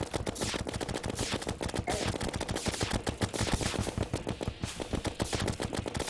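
Plantera, the jungle boss in Terraria, fires a dense, continuous barrage of rapid projectile shots, loud and rhythmic like machine-gun fire, with game effects layered throughout and no talking.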